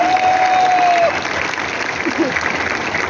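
Audience applause at a business plan presentation, a broad steady wash of clapping filling the clip at fairly high level, with a brief tonal sweep near the start and continuous crowd noise throughout.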